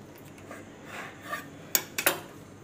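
A knife cuts through a stuffed bread slice for bread pakoda, giving soft rubbing sawing strokes and then a few sharp clinks of metal against a plate, close and quiet.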